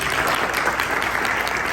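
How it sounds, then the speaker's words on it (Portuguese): Sustained audience applause at a business entrepreneurs' gathering, a dense, steady wash of many hands clapping close and loud throughout, with no speech over it. "Dessa uma salva de palmas para você."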